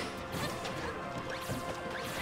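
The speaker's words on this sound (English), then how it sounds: "that up air was safe on parry" An up air attack in Super Smash Bros being parried, a dense, continuous burst of crashing hits, whooshes and impact effects, loud and steady for about two seconds, with no voices.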